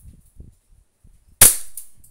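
A single sharp crack from an E&C airsoft Glock 19 pistol firing, close and loud with a quick fading tail, preceded by faint low handling noises.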